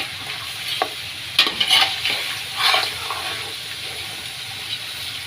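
Sri Lankan style crab curry being stirred and mixed in a pan: a constant close sizzle with a few scraping strokes clustered near the start, and no voices.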